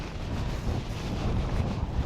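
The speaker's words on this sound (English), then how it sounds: "It's very windy. I hope the microphone is" Strong gusty wind buffets the microphone on the causeway at Bembridge, a dense continuous roar with no voices.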